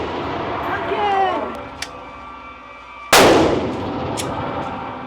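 A handgun is racked and fired once, a single loud sharp report after a quieter stretch with a voice talking, followed by a faint metallic clink.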